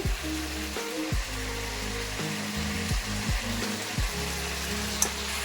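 Chicken sizzles steadily in hot oil in a pan with soy sauce and tomato ketchup, a dense close frying hiss running throughout with a few scraping stirs, no talking.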